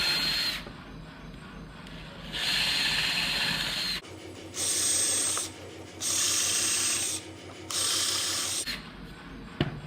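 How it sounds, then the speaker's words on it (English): Drill with a countersink bit boring screw holes in wood, several separate whirring bursts of a few seconds each with brief pauses between, close and moderately loud. "I have a countersink into a drill set just to the length of my screw"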